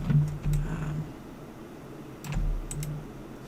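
Fingers type a short reference name on a computer keyboard, giving two brief clusters of soft key clicks over a low background hum, close and fairly quiet.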